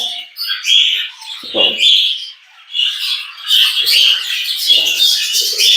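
Many small caged rainbow birds chirping and squawking together nearby, a busy overlapping chatter with a few louder calls and rustling.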